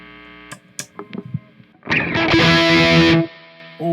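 A few sparse plucked guitar notes, then a loud, fuzzy chord through a Distortion Ray amp-sim effect rings out for over a second before cutting off; another chord begins at the end.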